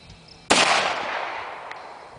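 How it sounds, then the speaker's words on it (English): A single sharp report from a .44 Magnum handgun at an outdoor shooting session, loud and close, with a long fading echo trailing after the blast. "44 Magnum handgun rounds and a rifle"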